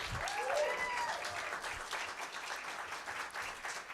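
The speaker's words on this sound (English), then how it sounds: "please give a big round of applause" A crowd applauds steadily throughout at a jazz gig, a dense wash of clapping with a voice briefly audible near the start.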